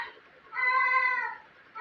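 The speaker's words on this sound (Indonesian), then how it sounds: "Itu suara kucing biasa, biarkan saja, khas ya, khas di Tatar Sunda ada kucing." A single cat gives one clear, drawn-out meow, fairly close, against a quiet background, with the start of another meow at the very end.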